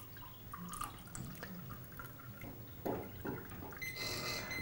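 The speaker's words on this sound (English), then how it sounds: "as you pour the liquid into the cup" Liquid is poured into a cup sitting on a tray, with a liquid level indicator's prongs hooked over the rim: a steady close trickle and splash that fills the cup, with no voices.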